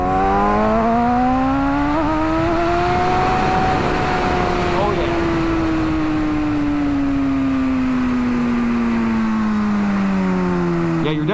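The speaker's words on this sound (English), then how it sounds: "you're definitely revving the crap out of this bike to get any performance out of it" A 2007 Kawasaki ZX6R sportbike engine revs hard while riding, its high-pitched whine climbing, holding, then slowly falling, loud and close under rushing wind, with a rider briefly speaking.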